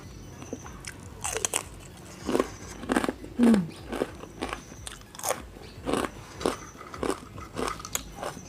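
Crispy baked jackfruit being bitten and chewed close to the mic, a run of sharp crunches and crackles repeating in uneven bursts with short pauses between.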